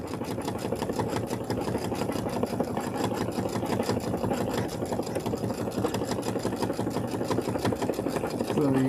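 An embroidery machine running its under stitches, a fast steady mechanical needle rhythm that holds for the whole stretch, close and fairly loud.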